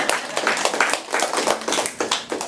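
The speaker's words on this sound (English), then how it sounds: "Yeah, you can clap." Audience applause at an education technology meetup panel, a steady dense patter of many hands clapping that fills the whole stretch without talk.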